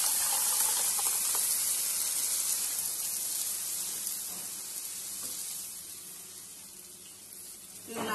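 Egg curry gravy pours into a hot pan with a loud hissing sizzle that slowly settles and fades, then briefly swells again at the end.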